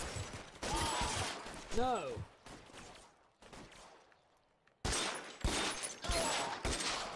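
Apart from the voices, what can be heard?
gunshots in the video game L.A. Noire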